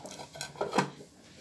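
Metal dishware clinks a few times as a pot of mixed tuna pickle is covered with its lid, a short cluster of light clatters at close range in a home kitchen.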